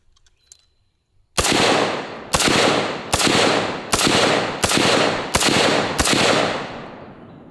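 Seven loud, sharp M1 Garand rifle shots ring out in a steady rhythm after a short quiet lead-in, each crack followed by a decaying echo.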